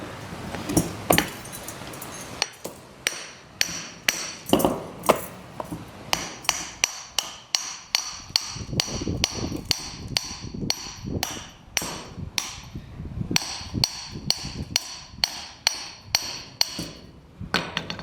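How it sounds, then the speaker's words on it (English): Repeated sharp metal-on-metal hammer strikes ring out close up as a Subaru CV axle coupling is hammered off, steady blows with ringing clinks, continuing throughout. "We're just going to hammer off"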